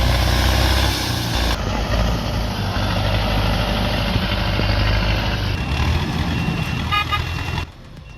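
Case C360 tractor engine idling with a steady low rumble, loud and close, shifting in tone partway through as outdoor logging activity continues around it.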